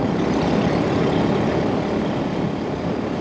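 A 1964 Velocette Venom Veeline Clubman motorcycle is ridden at a steady, moderate pace, its engine a continuous loud rumble blended with wind noise, with no talking.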